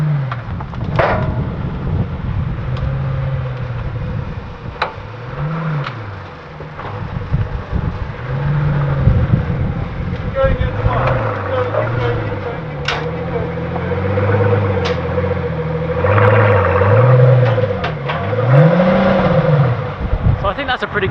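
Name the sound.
Pagani Huayra supercar engine revving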